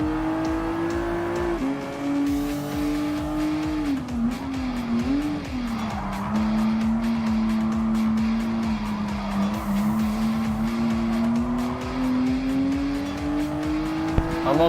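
A Nissan GT-R GT Academy Version race car in Gran Turismo Sport slides through a chicane, its loud steady engine note wavering up and down, with tire squeal and a brief knock near the end.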